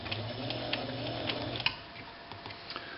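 A White rotary Model 77 MG sewing machine runs with a quiet, even mechanical hum and light ticking, then stops midway, leaving faint clicks.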